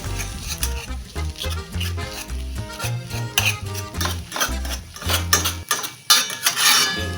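A utensil chops and breaks up eggs in a hot pan for fried rice, giving rapid clattering metal taps and scrapes in an irregular rhythm over a faint sizzle, close and loud with no talk.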